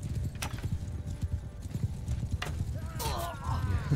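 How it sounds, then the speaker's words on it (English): In the Mount and Blade Bannerlord video game, a horse gallops with rapid, steady hoof clip-clops through a battle, and a whinny rises near the end, all beneath a voice. "I think that horse is gonna go down like any second now."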